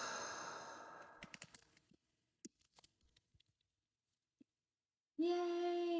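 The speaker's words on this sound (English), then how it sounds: "Take a really big deep breath. Full inhale. Full exhale." Someone takes a deep, full breath, starting with a long audible exhale that fades out, followed by quiet small rustles and a brief tone near the end.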